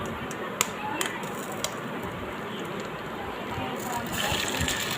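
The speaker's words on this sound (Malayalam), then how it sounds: "നമ്മൾ മുട്ട പൊട്ടിച്ച് ഒഴിക്കാൻ പോവുകയാണ്" Two eggs are cracked into a pan for Maggi noodles in a kitchen, with a few sharp taps and cracks followed by a soft pour and gentle sizzle near the microphone.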